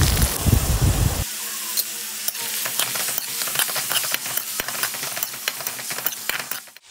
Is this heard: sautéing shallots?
yes